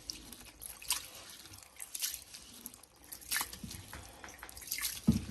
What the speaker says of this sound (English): So while I'm scrubbing the rice, again, I just have it in the water